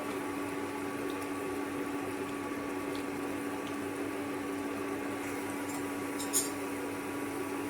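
Cabbage pakora deep-fries in hot oil over a low flame, a steady, even bubbling hiss that holds throughout, close and continuous, with no talking.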